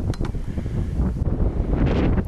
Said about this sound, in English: Bit windy, but you can't do nothing about it.